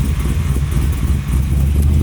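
A pro street '67 Chevy Nova with an LS3 V8 and Borla exhaust through 3-inch stainless pipes runs with a deep, steady, loud low rumble, its idle pulsing evenly and not especially rowdy.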